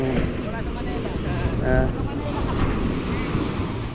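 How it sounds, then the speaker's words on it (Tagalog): Strong ocean waves surge and wash steadily nearby, with a constant rush of surf and faint voices in the background. "lakas ng alon."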